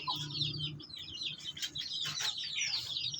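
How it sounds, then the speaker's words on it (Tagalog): Backyard chickens feeding on cooked overripe banana, a continuous busy chatter of soft clucks and chirpy peeps close by with low murmuring, no clear talk. "gusto rin nilang kainin ang ating mga alagang manok, yung saging na luto"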